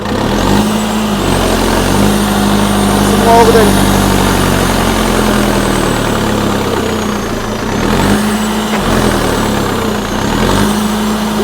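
A heavy tractor engine runs steadily and loudly under load, its throbbing drone rising and easing slightly under strain, with a person talking over it.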